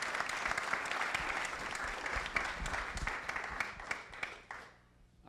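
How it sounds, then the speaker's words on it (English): An audience at a customer success meetup applauding panelists, with loud, dense clapping from a roomful of people that fades out over a few seconds. "let's give a round of applause for our panelists"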